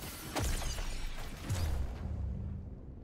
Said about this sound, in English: that's a couple of explosions.